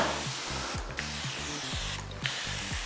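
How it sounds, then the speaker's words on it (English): Pressurised spray bottle misting Prepsol across the body of a 1971 Camaro muscle car during filler work, a steady broad hiss held close for several seconds with a couple of brief pauses. "put plenty of pressure in your bottle and get a nice wide spray"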